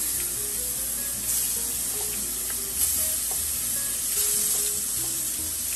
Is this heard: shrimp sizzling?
yes